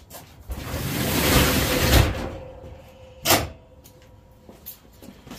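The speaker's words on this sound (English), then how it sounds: "We shut the door here." A door is shut nearby with a single solid thud, coming after gusty wind noise that fades to a quieter background.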